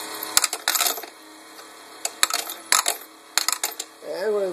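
A Totes battery-operated coin sorter running with coins loaded, giving repeated bursts of clinking and rattling metal as coins drop and sort, with quiet gaps between the bursts and a faint motor hum.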